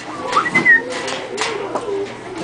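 A pet parrot gives a brief rising whistle and a few soft chirps, close and fairly quiet, with people's voices talking around it.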